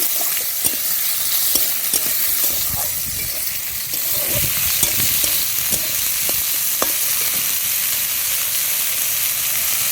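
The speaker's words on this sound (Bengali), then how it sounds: "কড়াটা গরম হয়ে গেছে, তেল দিয়ে দিলাম। একটা পেঁয়াজ দিয়ে দিয়েছি।" An onion fries in hot oil in a wok, a dense, loud, continuous hiss of sizzling with scattered sharp pops and occasional stirring clicks throughout.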